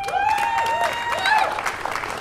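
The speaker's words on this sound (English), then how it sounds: "Yes, keep the applause coming." Applause and cheering from a crowd at an outdoor Juneteenth gathering in Burlington, Vermont, steady for a couple of seconds with a voice speaking over it.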